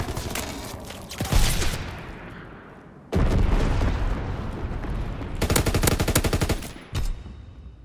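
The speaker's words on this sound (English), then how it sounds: "Bombing run inbound." Bombing-run explosions and heavy gunfire in the World War II shooter Call of Duty WW2, with loud booming blasts and rapid bursts filling the scene, a sudden cut, then more dense rattling fire and impacts.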